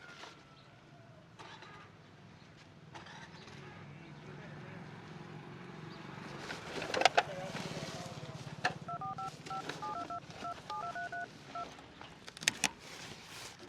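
A mobile phone keypad being dialed, a quick series of short beeping tones near the end, heard over a steady engine-like rumble and faint background voices outdoors.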